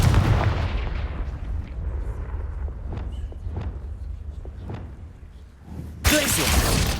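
Confringo blasting spell cast in Hogwarts Legacy, a heavy booming impact that fades into a rumbling tail with scattered debris cracks, then a sudden loud burst of noise at the end.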